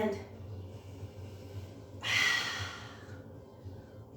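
A long, breathy exhale from someone doing mat Pilates breathing rises in a soft rushing swell over a low steady room hum, then fades.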